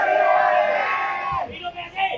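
A crowd of political supporters in Indonesia shouts a slogan together, one long loud massed yell that fades into scattered shorter shouts and voices.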